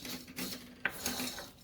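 Faint scraping and light clinks of a spoon stirring hot roasted mango seeds in a pan on a switched-off gas stove, with soft rhythmic strokes.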